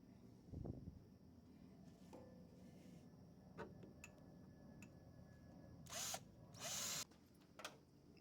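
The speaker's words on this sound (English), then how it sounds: "Trying on the faceplate and drilling holes for the handle." A power drill whines in a few short bursts, drilling handle holes in a metal tool chest faceplate, with quiet workshop clatter and a faint click between them.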